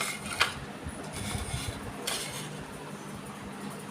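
Decorative plates are handled, giving soft clinks and light knocks of dishware, a couple of brighter taps standing out over low background rustle, close by and with no talk.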